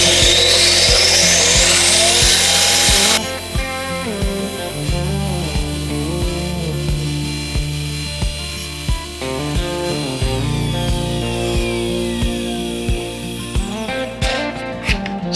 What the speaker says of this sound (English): I just get it in there nice and tight, turn on my grinder, take it off